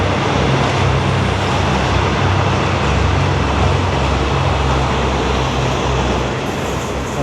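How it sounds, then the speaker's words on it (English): An airport rail link train passes nearby in Thailand, a loud, steady rumbling roar with a broad hiss that holds for several seconds. "there goes the train, sorry about that."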